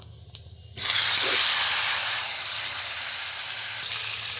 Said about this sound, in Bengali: এখানে আমার তেল গরম হয়ে গেছে আমি জিরে সরষে দিয়ে দিলাম এখন আমি মাছটা দিয়ে দেব